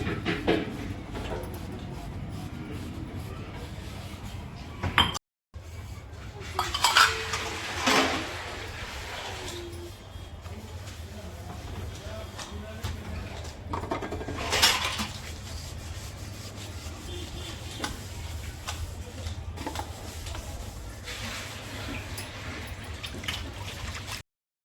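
Dishes, pots and pans being scrubbed by hand at a home sink, with a long stretch of rubbing and scraping, occasional louder clatters and faint water, broken by a short pause early on.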